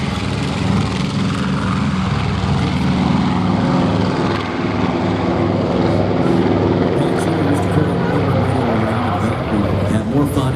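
Loud, steady propeller engines of a B-25 bomber drone and throb continuously as it taxis, close by, with a low rumbling roar that fills the whole stretch.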